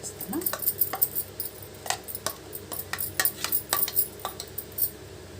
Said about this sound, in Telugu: మనం ఇప్పుడు గిన్నెలోకి తీసుకుందాము చూడండి గిన్నెలోకి తీసుకుని